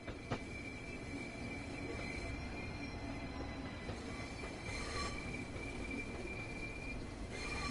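A simulated train runs on the Southeastern High Speed route in Train Sim World 2, giving a steady rolling rumble with wheel squeal and faint whines layered throughout, continuous and fairly near.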